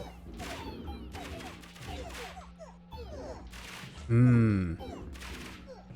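Gunfire in a video game battle: several rapid volleys of sharp shots in bursts, with a louder tonal blast near the end, mixed with game effects and brief talk.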